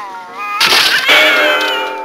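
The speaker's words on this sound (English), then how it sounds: "Come here, kitty." A house cat meows loudly and up close, a long drawn-out wail with a rising and falling pitch, then a second yowl right after it, heard alone.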